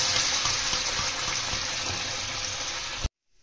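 Chana dal and its cooking water tipped into a pan of fried soya chunks and spices, a steady loud gushing pour lasting about three seconds before stopping abruptly.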